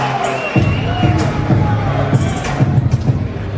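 Boxing arena crowd cheering and roaring for a Coachella Valley native fighter at a Golden Boy fight night, a steady loud swell of voices with rising shouts throughout.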